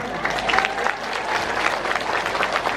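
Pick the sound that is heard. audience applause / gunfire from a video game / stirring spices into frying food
audience applause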